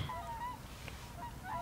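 A goose honks near a campsite: several nasal, wavering honks at moderate distance over a steady outdoor background, with no voices.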